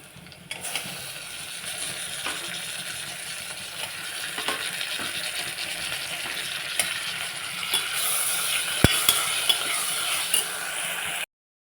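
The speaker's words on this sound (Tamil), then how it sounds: "இப்போ வந்து தக்காளியை நல்லா மிக்ஸ் பண்ணி விட்டுடலாம்" Chopped tomatoes and onions fry in a pan for a baby jackfruit biryani, a soft continuous sizzle with occasional clinks and scrapes of a spoon stirring, growing a little louder toward the end.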